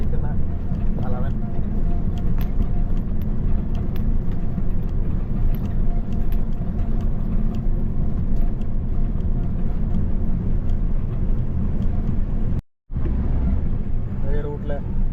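A car rolling downhill on a winding ghat road, steady engine and road rumble throughout with a brief dropout near the end, under occasional talk.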